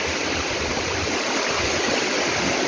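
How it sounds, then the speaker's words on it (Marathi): Small waterfalls and streams pour in the rain at Tamhini Ghat, a loud, unbroken rushing wash of water with no pauses. "छोटे छोटे धबधबे"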